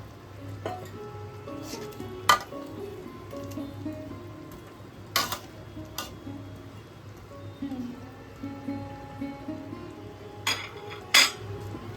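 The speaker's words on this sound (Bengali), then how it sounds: "আলু পুরোপুরি সেদ্ধ হয়ে গেছে, এবার আমি ভেজে রাখা ধোকাগুলো দিয়ে দিচ্ছি।" Fried chana dal dhoka being added to a pan of potato curry: a low steady sizzle under occasional sharp metal clinks of a spoon against the pan, with a voice talking throughout.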